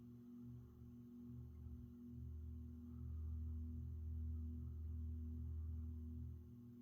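A Saff Enterprise Flush Polo 52-inch ceiling fan runs with a steady low motor hum and faint harmonic tones, continuous and even throughout, heard alone without any talk.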